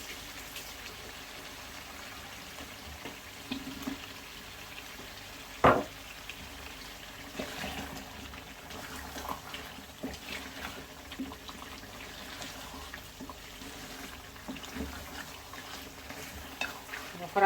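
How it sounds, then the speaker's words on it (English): Potatoes are added to chicken curry frying in a pan, giving a soft, steady sizzle with a sharp clunk as they drop in, then light scraping and stirring taps. "I'm just going to add my potatoes to this now actually."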